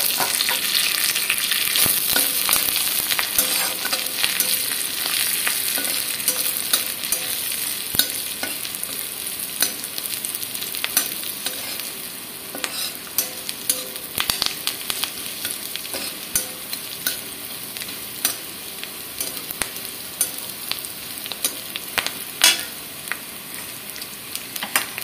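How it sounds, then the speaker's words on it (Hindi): Ingredients with curry leaves roasting and being stirred in a hot pan, a steady dense sizzle with scraping stir strokes throughout, close and alone without talk. "इसको भून लेती हूँ 2 मिनट तक। कढ़ी पत्ता भी डाल दूंगी।"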